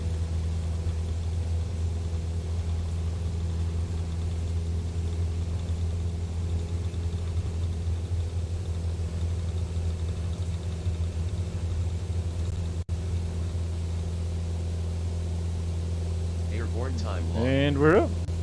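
Cessna light aircraft engine in a flight simulator game, climbing out after takeoff from Sedona, a steady droning rumble held at an even level throughout, with a brief voice near the end.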